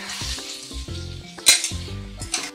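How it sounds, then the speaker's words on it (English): Wild coriander being stirred into pork curry in a pan, with frying sizzle and scraping stir strokes near the mic, a sharp clink of the utensil against the pan midway, and no talking. "Give a good stir."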